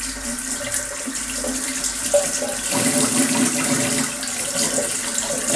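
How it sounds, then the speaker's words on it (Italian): Hot water pours steadily from a tap into a sink while shaving gear is prepared, a continuous close splashing hiss with no talking. "Intanto che scende l'acqua ben calda, perché non è detto che arrivi subito."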